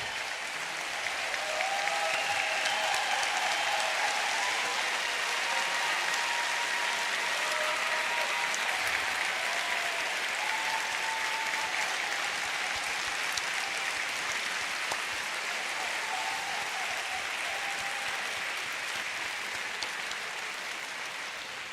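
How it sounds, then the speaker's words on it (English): Long sustained audience applause at The World's 50 Best Restaurants 2025 awards ceremony in Turin, steady full-room clapping that swells in at the start and holds evenly before easing slightly at the end, with faint background music beneath. "Please, all of you from the 51 to 100 restaurants, be upstanding and take the applause."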